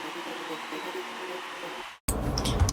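A dense roar of a crowd fills the air, then cuts off abruptly before a louder, rougher burst of crowd noise starts.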